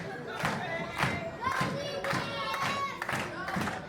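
A wrestling arena crowd cheers and claps in rhythmic surges, with dense, steady noise that swells about every half second, sounding close and loud.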